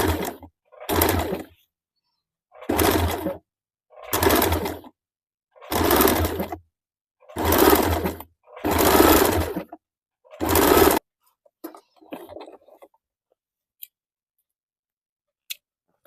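A sewing machine stitches piping onto three blouse panels in eight distinct bursts, each a second or so long with short pauses between, then a few faint handling sounds near the end.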